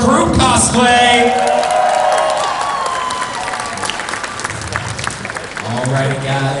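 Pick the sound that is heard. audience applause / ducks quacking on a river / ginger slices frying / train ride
audience applause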